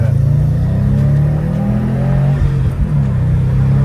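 A 2019 Subaru WRX STI with an Invidia exhaust and Cobb tune pulls hard in second gear, a steady loud droning engine note heard from inside the car.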